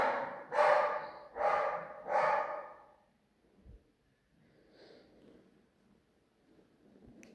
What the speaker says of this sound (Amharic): በእርግጥ የውሻው ድምጽ ነው እየገባ ያለው